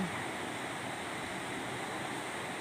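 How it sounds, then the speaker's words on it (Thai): A small waterfall pours into a pool over rocks at Wang Takrai park in Nakhon Nayok, giving a steady, even rush of flowing water with no voices. "น้ำก็ไหล ไหลลงมาเรื่อย ๆ ค่ะ เป็นน้ำตกขนาดเล็ก ๆ นะคะเป็น แอ่ง น้ำไหลมาตามโขดหิน"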